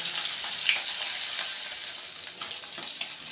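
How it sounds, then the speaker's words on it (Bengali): Rohu fish pieces fry lightly in oil after being flipped, giving a soft, even sizzle with faint crackles throughout, fairly quiet and with no voices. "আমি কিন্তু খুব কড়া করে মাছগুলো ভাজবো না,"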